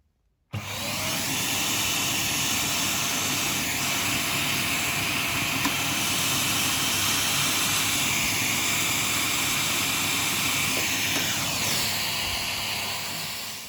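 A vacuum cleaner with a long brush attachment sucks dust out of a desktop PC, its steady loud roar and hiss switching on abruptly and running continuously without a break.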